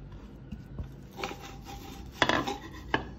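Large cooking pot handled while preparing chonge, with scraping and rubbing metal noises, a few light clanks and knocks scattered through, fairly close with no talking.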